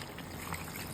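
Beef broccoli sauce pours into a pan, a soft continuous trickle and liquid splash heard close and fairly quiet, running without pause for a brief moment with no talking.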